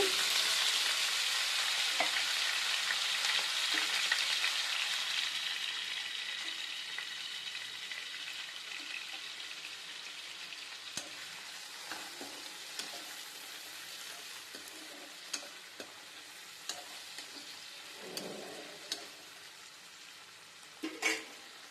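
Onions and tomatoes frying with spices in a pan for gongura chicken, a loud crackling sizzle that slowly settles into a softer hiss, broken by sharp spoon taps and stirring scrapes.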